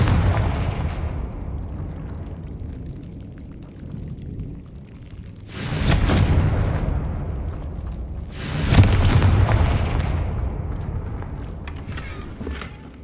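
Two heavy blasting-spell explosions from the Confringo curse in the Hogwarts Legacy video game, each a loud, sharp burst with a rumbling decay, spaced a few seconds apart over a low, steady background rumble.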